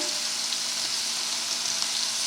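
Scallops pan-searing in a hot pan as they are flipped, giving a steady, dense, close sizzle with no talk.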